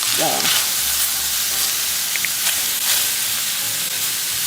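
Onions fry and sizzle steadily in a pan while cooking for a cabbage and ground beef dish, a continuous close hiss with a few soft stirring scrapes and a brief voice early on.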